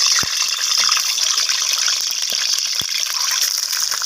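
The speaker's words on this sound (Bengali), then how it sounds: "এখানে তেলটা গরম হয়ে এসেছে এরপর ডিমগুলোকে আমি তেলের মধ্যে দিয়ে দিলাম" Boiled eggs drop into hot oil in a pan, setting off a loud, steady hiss with a couple of soft thuds from the eggs landing.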